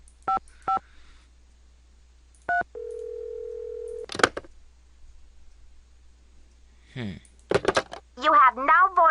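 Telephone keypad tones in a Nancy Drew video game, several short beeps, a steady held tone, a click, then more quick beeps as a number is dialed, followed by a voice speaking.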